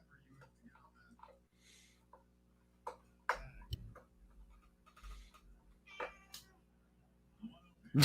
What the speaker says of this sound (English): Y'all hear the cat chiming in?